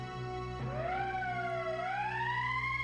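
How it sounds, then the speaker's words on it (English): A rising, wailing emergency siren from the video game Valkyria Chronicles sweeps upward over a steady hum, sounding loud and continuous for the whole stretch with no talking. "That's the emergency siren."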